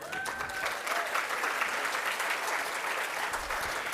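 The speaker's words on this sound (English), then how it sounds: "Applause, please." An audience at an engineering innovation awards final applauds, a dense, sustained clapping that fills the room evenly, with a brief voice at the start.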